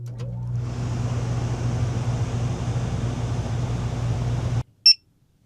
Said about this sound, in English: My old AC was loud on startup.